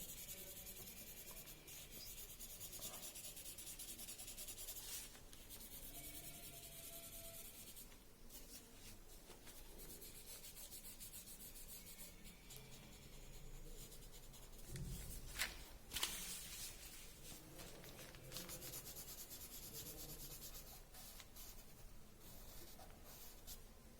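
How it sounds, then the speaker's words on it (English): Medium pencil shading across paper in a charcoal drawing, a faint, continuous soft rubbing and scratching with brief louder strokes, close by and with no talk. "now, so let us shade with medium pencil"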